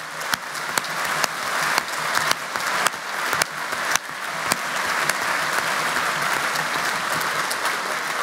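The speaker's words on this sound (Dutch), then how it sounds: "Applaus voor jullie allemaal." An audience at a political party congress in Nieuwegein applauds steadily, with sharp individual claps punctuating the dense, moderately loud applause throughout.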